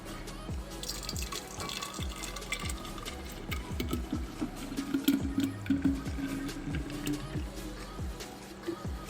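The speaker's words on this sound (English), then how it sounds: "Let's pour." Green smoothie made with collard greens poured from a blender into two 32-ounce containers, a thick liquid glugging and dripping in uneven bursts at close range, with some clatter and brief talk.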